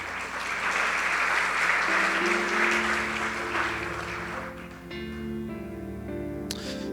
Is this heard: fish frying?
no